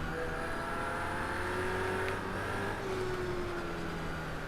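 A Hot Wheels Ferrari drives along, its engine a steady, fairly quiet hum with faint tonal whine rising and falling over a constant background.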